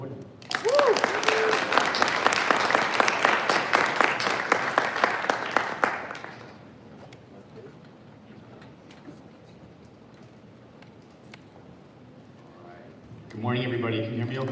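A seminar audience applauds to welcome the speaker, with dense steady clapping from a crowd for about six seconds that then fades to room murmur before a voice begins speaking.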